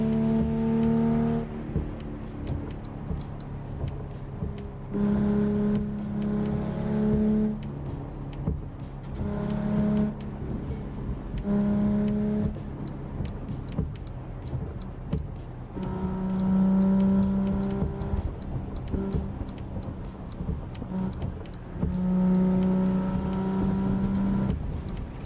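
Simulated Volvo engine from the Assetto Corsa racing game, a steady droning motor with repeated shifts and revs rising and falling through each gear, continuous and fairly close, with no talk.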